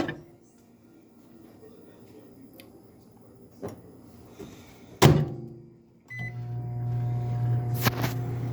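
Microwave oven heating nachos topped with cheese and jalapenos in a home kitchen. Quiet room tone first, a few clicks and one sharp clunk, then a steady loud hum with a faint tonal whine starting partway through.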